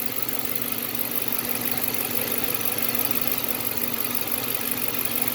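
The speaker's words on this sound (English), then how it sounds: "This was its third startup to idle." A Dodge Charger Pursuit with a swapped 392 cam, MDS not deleted, idles steadily at close range, giving a continuous, even engine rumble with a faint buzzy vibration and no voices.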